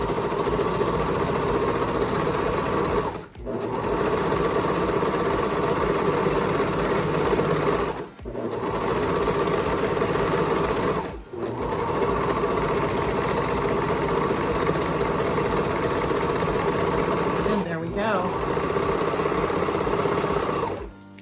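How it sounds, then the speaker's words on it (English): A serger sewing machine trims and overlocks a fabric edge for a scrub cap, running in long loud steady bursts with a dense whirring hum, broken by three short pauses and one brief dip. "The serger's gonna trim it off and make it pretty."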